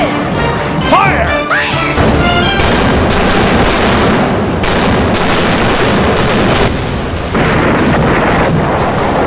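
Starship weapons fire in an audio drama sound effect: a rapid volley of loud blasts, crashes and impacts fills the whole stretch, layered with swooping electronic tones early on and voices mixed underneath.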